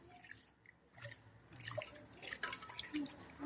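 Rice and lentils rubbed and washed by hand in water give soft sloshing, dripping and squishing sounds, close and quiet, in irregular bursts.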